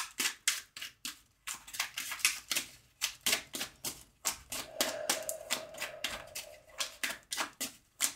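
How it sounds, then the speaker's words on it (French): Tarot cards being shuffled and drawn from a deck, a rapid series of crisp papery flicks and snaps, close and fairly quiet, with no talking. "Je vais sortir 3 cartes."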